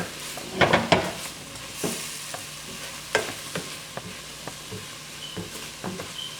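Onions toasting in a pot for a stew fish dish while a spoon stirs them, soft sizzling under several sharp scrapes and clinks of the utensil against the pot, scattered irregularly and close by.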